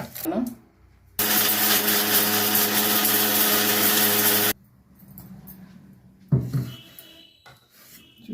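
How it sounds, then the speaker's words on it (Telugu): A kitchen mixer grinder grinds cooled roasted lentils for an Andhra-style amla spice powder, a loud, harsh whirring burst of about three seconds, with quieter handling noises just before and after. "మిక్సీ పెట్టేస్తున్నాను."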